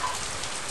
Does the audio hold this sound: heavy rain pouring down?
yes